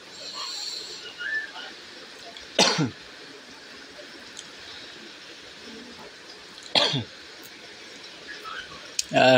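Two distinct short coughs from a man with a cough two days old, a few seconds apart, with a third starting at the very end, over quiet background noise.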